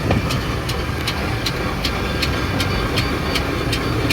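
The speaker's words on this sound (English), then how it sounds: "1909 general purpose engine, this is Old Faithful." A 1909 general purpose steam traction engine runs at a steam rally at Scampston Hall, with a steady low mechanical chuff and evenly spaced sharp beats at about two per second, close and fairly loud.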